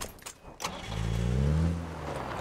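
A car in a battlefield shooter video game starts up and revs into a steady, loud engine drone that holds for over a second before easing slightly, following a few brief clicks.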